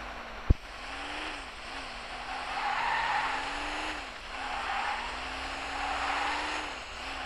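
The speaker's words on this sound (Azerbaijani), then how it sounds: "İşte bu şehir içinde driftin yaxşıdır." Tires squeal steadily as a car drifts through city streets in the Car Simulator 2 video game, with a continuous engine drone and repeated rising and falling screeches over about seven seconds after a brief sharp click.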